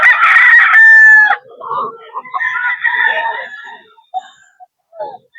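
A lemon sweater bull stag gamefowl rooster crows once loudly and close at a farm breeder's sale in Bocaue, followed by people talking nearby.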